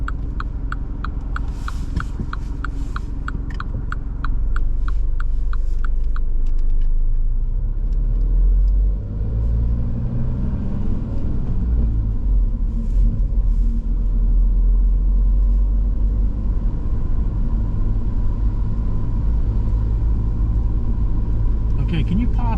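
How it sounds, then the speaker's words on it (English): A learner driver's car moving along a road in Swindon, with steady engine rumble and tyre noise close inside the cabin, rising as it pulls away, with people talking over it. "then drive on when safe to do so"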